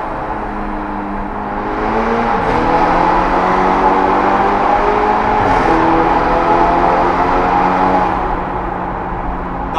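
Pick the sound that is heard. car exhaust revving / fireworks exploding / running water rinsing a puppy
car exhaust revving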